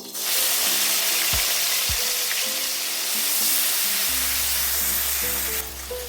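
Onion paste dropped into hot oil left over from frying fish sizzles loudly and continuously at close range, with a low droning hum under the hiss and no speech.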